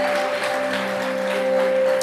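A church congregation claps steadily at a Christmas service, a dense, even wash of applause held over sustained musical tones.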